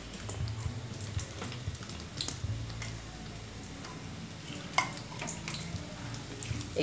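Roughly chopped onions frying in hot oil, a steady soft sizzle with scattered light crackles and a sharp clink from the pan partway through.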